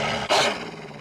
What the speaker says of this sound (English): There's our bark.